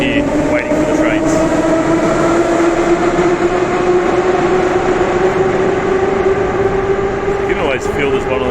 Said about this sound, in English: Very loud trains and very windy and breezy down here waiting for the trains.